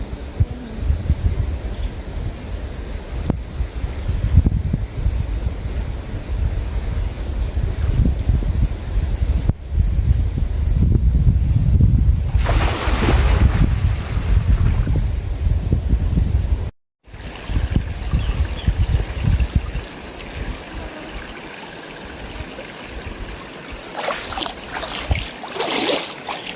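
River water rushes and flows continuously outdoors in a natural setting, a broad, steady wash of sound with gusts of wind buffeting the microphone and a brief dropout partway through.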